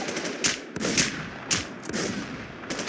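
Gunfire in the video game Afterlifez: several sharp bursts of shots at regular intervals, close and loud over a steady background.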